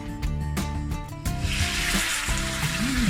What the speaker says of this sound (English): we're gonna fry those chicken thighs until golden brown